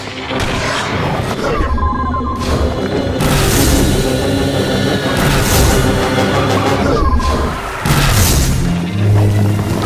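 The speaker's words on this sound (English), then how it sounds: "Grenade! Get down!" Loud grenade explosions and booming gunfire in the video game The Bureau: XCOM Declassified, a dense, continuous battle with repeated heavy thuds and crashes and shouted voices under the chaos.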